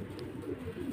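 Pigeons held for sale coo in a low, continuous murmur, close and fairly steady, with no voices over them.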